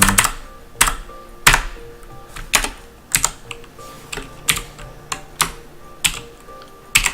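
Typing on a computer keyboard in a quiet room, a steady run of sharp key clicks with louder thumps from the spacebar or enter key roughly every second, close and clear with no talk.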